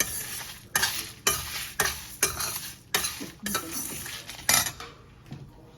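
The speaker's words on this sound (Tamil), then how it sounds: "பொன்னிறம் மாற வரையிலும் சிம்மில் வச்சு வறுக்கணும்." Spices for rasam powder are dry roasted on low heat and stirred in a pan. A utensil scrapes and clinks against the metal in repeated, fairly regular strokes, close and crisp, with no talking.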